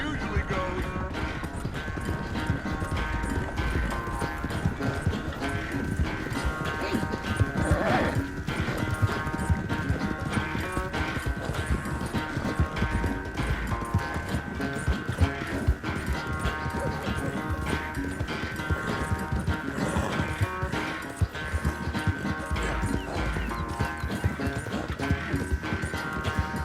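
Horses gallop hard in a race in Red Dead Redemption 2, a steady rapid clip-clop of hooves running throughout with an occasional neigh, while voices and game music play on top.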